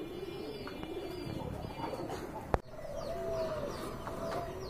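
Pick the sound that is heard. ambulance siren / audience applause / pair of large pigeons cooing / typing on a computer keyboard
pair of large pigeons cooing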